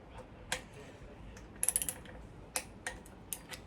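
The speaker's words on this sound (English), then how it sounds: "16mm nut, 13 foot-pounds. Give it a snug down first." A ratchet snugs down a 16mm valve cover nut on a CB Performance 2017cc engine build, giving faint, sharp clicks: a few isolated ones and one quick run of several clicks in a row.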